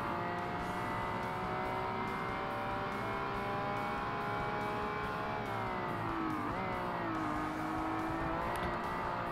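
A heavy car in a Forza Motorsport amateur heavyweight race, its engine droning loud and steady throughout, with pitch shifts between gears and a tire squeal near the end, no talking.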